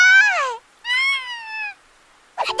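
A cat meows twice in long, clear, wavering cries close by, followed by a short sound at the end.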